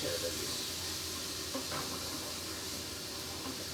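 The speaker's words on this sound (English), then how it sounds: "let's saute our veggies" Vegetables seasoned with everything bagel seasoning and black pepper sauté in a hot pan, giving a steady, fairly loud hiss and sizzle throughout with a few small clinks.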